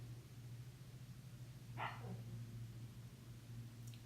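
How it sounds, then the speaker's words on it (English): A single faint puppy bark sounds in the distance over a steady low electrical hum. "New puppy's mad, she can't come in the room."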